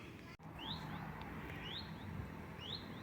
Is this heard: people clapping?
no